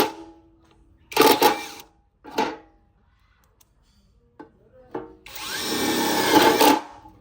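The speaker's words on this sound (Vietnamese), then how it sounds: "em sẽ dùng con mã máy 550N của Workfix em sẽ test chức năng bắn vít mỏng tự dừng cho mọi người xem nhá" Workfix 550Nm impact wrench driving thin screws with auto-stop, several short close whirring bursts separated by silences, ending in a longer run of motor buzz before it cuts off.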